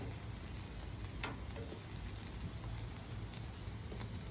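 Fish frying on a hot griddle, making a steady, dense sizzle that runs the whole time with a few sharper crackles and pops near the pan.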